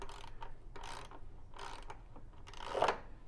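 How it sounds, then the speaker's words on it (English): Wrench clicks and ratchets in short bursts while a high shear kit is fitted onto an EVO wand, with a louder ratcheting burst near the end and no talking. "turn a wrench to put it on"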